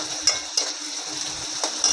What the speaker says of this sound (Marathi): थोडा भाजापर्यंत हलवून घेऊया छानसं.